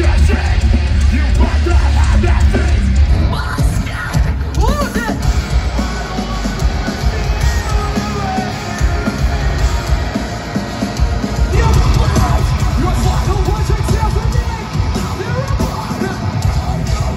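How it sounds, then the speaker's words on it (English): A huge, loud crowd waits at a music festival with thousands of people, a dense continuous roar of voices broken by yells, whoops and cheers close by and all around. "Way too loud. The crowd behind us."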